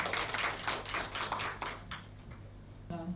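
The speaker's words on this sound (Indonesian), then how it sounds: "Mari kita beri tepuk tangan yang meriah untuk Ibu Alia." An audience at a symposium session gives a brief round of applause, steady clapping that thins out and fades over about three seconds before a voice begins.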